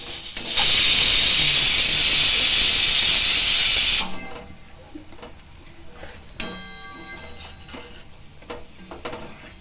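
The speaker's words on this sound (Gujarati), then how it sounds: "તો હવે ડુંગળી સોતરાવા લાગી છે." Onions frying in a pan, a loud, close burst of hiss and sizzle for about four seconds, then quieter crackling and ticking pops, with no talking.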